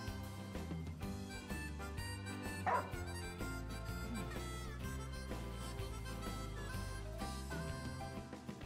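A dog barks once briefly in the Final Fantasy XV video game, a quiet yelp over steady game music.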